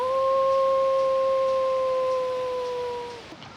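A man imitates a wolf howl with one long, steady, sustained voiced tone that holds for about three seconds, then fades out into quiet.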